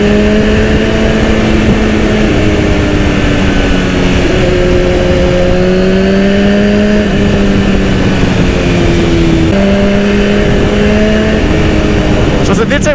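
A 2010 BMW S1000RR motorcycle engine runs steadily during a ride, a loud sustained drone with shifting pitch as revs rise and fall, continuous and close for the whole stretch.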